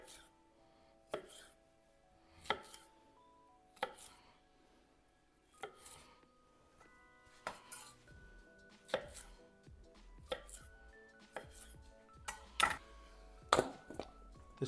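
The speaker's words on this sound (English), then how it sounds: "We'll get the baby cucumbers ready now as well. And these again will just go in quarters." A knife cuts baby cucumbers into quarters on a board, making a series of sharp, close chops spaced about a second apart at first and coming faster toward the end, with no talking.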